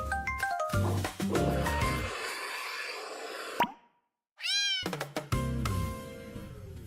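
A cat meows several times in a game trailer, set against a musical score with sharp plopping effects and a short gap of near-silence midway, the meows rising clearly above the music.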